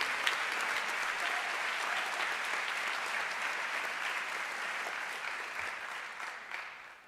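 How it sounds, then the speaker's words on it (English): Loud audience applause at the opening of the American Legion Arkansas Boys State program, a dense and sustained wash of clapping from a large crowd that fades slightly toward the end. "Please welcome to the podium with a resounding and a very loud applause, Mr. Lynn Cotton."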